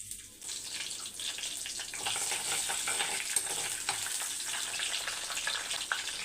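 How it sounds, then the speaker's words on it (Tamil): Fenugreek seeds, curry leaves and a green chili crackle in hot sesame oil, a steady close frying hiss with small pops that swells slightly after the first couple of seconds. "வெந்தயம் பொரியும் போது கொஞ்சம் கருவேப்பிலை ஒரு பச்சை மிளகாய்"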